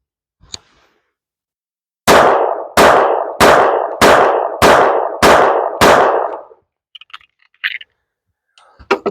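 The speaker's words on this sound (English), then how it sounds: "you can see that all these are semi-rapid fire" An old police handgun fires seven semi-rapid shots at a target, loud sharp cracks spaced about half a second apart, followed by a few faint clicks and clatter.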